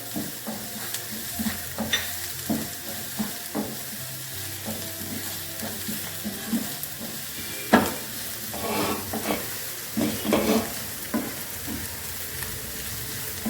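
Ginger, garlic and green chillies sautéing in a pan for Kerala chicken thoran, with a steady sizzle and repeated scraping and tapping as a spatula stirs, close and without talk.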